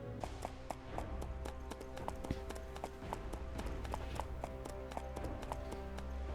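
Horse hooves in the video game Flame of Valhalla, a quick, steady clip-clop of galloping hoofbeats over a low rumbling game soundtrack, close and continuous.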